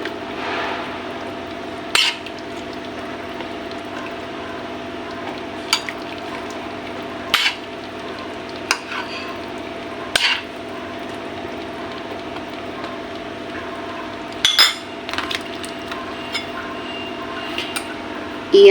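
String beans and bitter gourd stirred in a frying pan for chicken mung bean stew, with soft steady sizzle and scattered sharp scrapes and clinks of utensil against pan at intervals.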